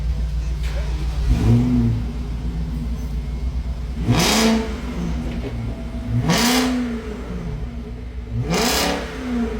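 A BMW E64 V8 engine with resonators deleted revs hard in four separate bursts, each a deep rising roar over a steady idling rumble, loud and close.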